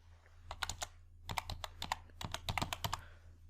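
Keystrokes on a computer keyboard while entering data into an Excel spreadsheet, in two quick bursts of close, crisp clicks separated by a short pause, with no talking.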